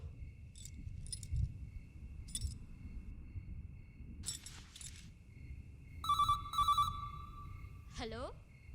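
A telephone rings in short repeated bursts against a quiet indoor hum, followed by a rising electronic tone; it is heard alone without talk.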